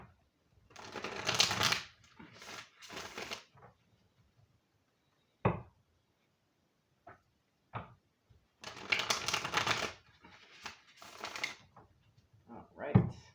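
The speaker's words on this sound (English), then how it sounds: "Spirit, we're going to shuffle 3 times." Tarot oracle cards shuffled three separate times, each burst a dense riffling rustle of a few seconds, with soft single taps in the quiet gaps between.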